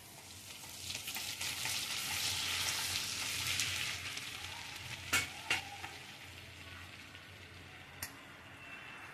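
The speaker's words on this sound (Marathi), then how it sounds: "आपण तेल आणि बटर टाकले. आता थोडं जिरं टाकूया." Cumin seeds sizzle in hot oil and butter, a soft, fairly quiet hiss that swells briefly then settles, punctuated by a few sharp pops or clicks toward the end.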